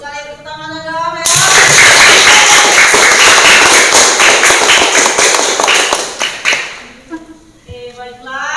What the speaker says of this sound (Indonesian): tepuk tangannya dong ya